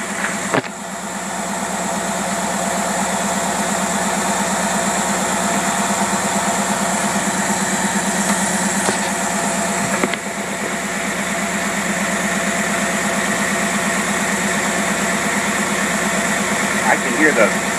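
Carbureted engine running with its distributor turning, a steady unbroken idling drone throughout with a voice talking over it.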